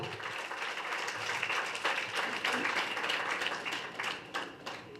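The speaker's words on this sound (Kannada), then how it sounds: "ಜೋರಾದ ಚಪ್ಪಾಳೆ ಬರಬೇಕು" Audience applause at a one-day international HD makeup training workshop, a sustained wash of many hands clapping at moderate level with voices faintly underneath.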